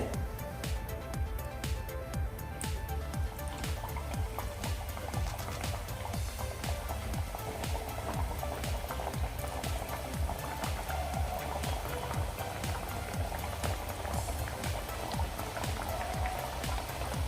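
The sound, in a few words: homemade donuts deep-frying in oil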